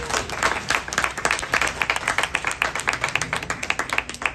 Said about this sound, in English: Can we have a round of applause for Katie?